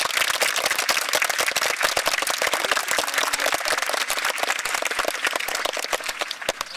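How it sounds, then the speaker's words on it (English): A crowd gives a round of applause for special guests at a May Day celebration, with close, crisp individual claps in a busy, uneven rhythm that stays loud throughout. "Can you please give each of our special guests a big round of applause?"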